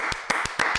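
Audience applauding on a talk show set, a few distinct loud hand claps in a slow, uneven rhythm over a sustained crowd murmur.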